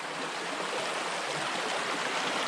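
Creek water flows steadily beneath a railway trestle at Gash-Cash Creek, a continuous close rushing and burbling with no voices.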